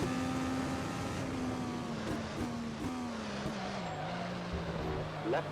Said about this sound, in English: big, loud race cars, they're amazing no matter what